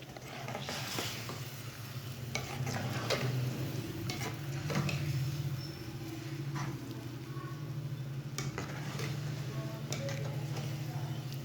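Boiled potatoes and peas are stirred in a pan of spiced masala for aloo matar, giving a steady low sizzle with scattered scraping and clinking of the spoon throughout.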